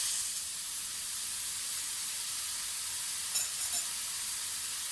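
Water hits hot spices in a pan and sets off a steady, broad sizzling hiss that runs throughout, with a couple of brief spitting bursts near the end.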